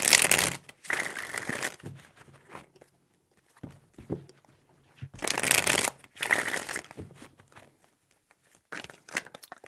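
A deck of tarot cards is shuffled nearby in about three quick bursts of riffling and flicking, with quiet gaps between them.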